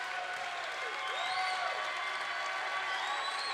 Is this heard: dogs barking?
no